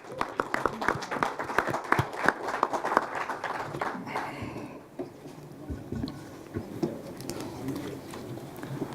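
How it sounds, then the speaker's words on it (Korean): Audience of party lawmakers applauding at a caucus for electing a floor leader: a few seconds of brisk, dense clapping that thins out and fades into room murmur and scattered taps. "여러분 다시 한번 박수 부탁드립니다"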